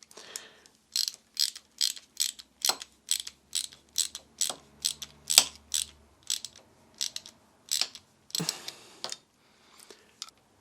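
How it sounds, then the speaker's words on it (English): Pliers work on the end of a motorcycle clutch cable in a quick series of metallic clicks and snaps. The clicks keep a fairly regular rhythm, are close and moderately loud, and have quiet gaps between them. "I'm just going to use a pair of pliers."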